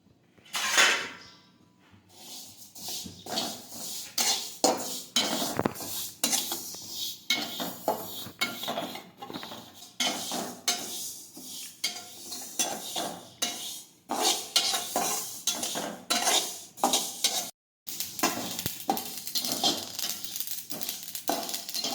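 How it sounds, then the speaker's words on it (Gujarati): Sesame seeds being dry-roasted in a kadai for til chikki, with steady scraping and stirring of a spatula against the metal pan and a faint sizzle, continuous and close throughout. "હવે આપણે એક કડાઈમાં તલ શેકી લઈશું થોડા થોડા"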